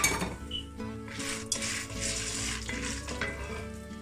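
Popcorn kernels tipped into hot oil in a pan for sweet popcorn, a steady close sizzle and frying hiss with light metallic clinks of the pan, continuous throughout.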